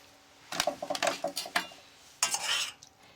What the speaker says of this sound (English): I'm going to add the mixed vegetables.